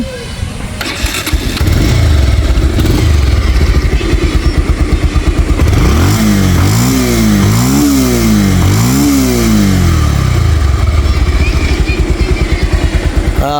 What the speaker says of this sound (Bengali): গাড়িটার এখন আমি আপনাদেরকে স্টার্ট করে সাউন্ড কন্ডিশন দেখাবো